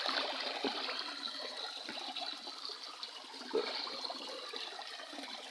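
A strong stream swollen by rain rushes steadily past at close range, a continuous broadband wash of flowing water with no voices.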